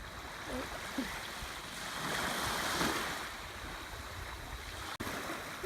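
Surf washing up on a Panama beach: a steady, fairly faint rush of waves with wind noise, swelling slightly in the middle and carrying on without a break.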